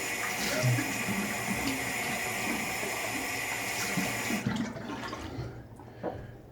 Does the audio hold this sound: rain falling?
no